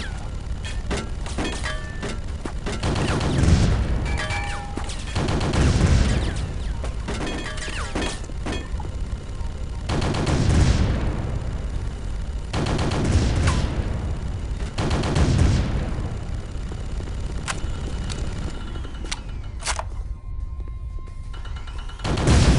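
Gunfire in the first-person shooter Chaser rings out in heavy, loud bursts and clusters of shots over a steady background of game noise, recurring every few seconds across the stretch.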